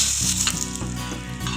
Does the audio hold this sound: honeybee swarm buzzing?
no